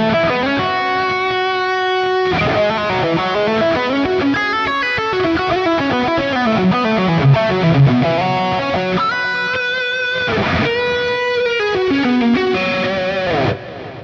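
Electric guitar lead tone run through a Fractal amp modeler, distorted and sustained, playing a continuous melodic line with chords and bends, loud and alone without talk.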